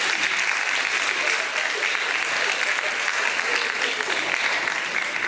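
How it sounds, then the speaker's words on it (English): Sustained, even audience applause fills the room at a virtual PIE luncheon, a dense wash of many hands clapping throughout with no break. "Let's give them another round of applause."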